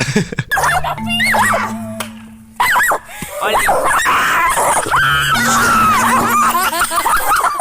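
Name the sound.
dog barking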